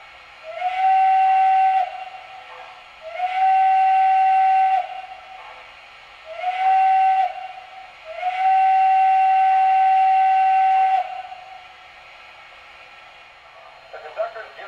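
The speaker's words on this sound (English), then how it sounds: "And the whistle." The steam whistle of an MTH Premier P&WV Light Mikado model train sounds in four clear blasts, two short and two long, loud and steady with a bright tonal pitch over a faint background hum.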